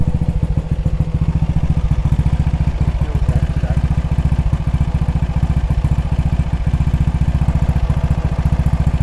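A Triumph Terrier motorcycle engine runs with the choke off, a close, loud, rapid-fire putter with a steady pulsing beat and some mechanical clatter on top, and no voices.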